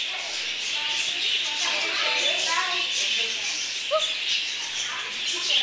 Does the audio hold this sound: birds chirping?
yes